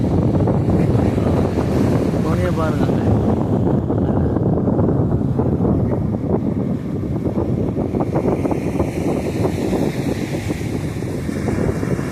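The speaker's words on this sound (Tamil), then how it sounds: "அலையெல்லாம் அமைதியாக இருக்கிறது கடல்" Calm sea waves wash along Kattankudi beach while strong wind buffets the microphone, a steady loud roar of surf and gusts throughout with no talk heard.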